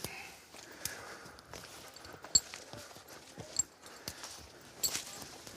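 Heavy hooves of an Ardennes draft horse clop unevenly on the forest ground in Fontainebleau, France, close by, with quiet outdoor background and no talking.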